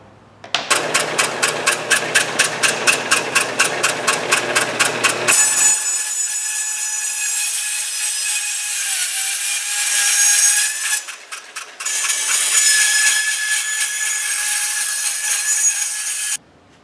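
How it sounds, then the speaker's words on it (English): A bandsaw cuts a marked part out of sheet metal in a home workshop. A rapid rhythmic rasping opens the cut, then a loud, steady high-pitched grinding whine follows with a brief break partway through. The sound is close and loud. "Mark it with my marker, and then I take it over to the bandsaw and cut it out."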